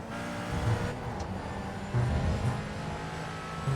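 McLaren GT4 race car engine in a racing video game at Virginia International Raceway, held steady in fifth gear at full throttle, a constant loud drone with small surges and no talk.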